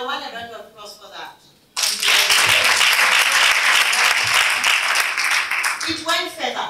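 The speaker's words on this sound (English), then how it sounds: "And I want a round of applause for that." An audience at a women's community coffee event in Randburg, South Africa, bursts into loud, sustained applause lasting about four seconds, with a speaker talking before it and again as it fades.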